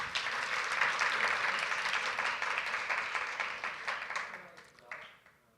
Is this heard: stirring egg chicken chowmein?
no